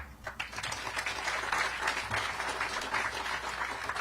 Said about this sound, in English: I know, y'all getting tired of clapping?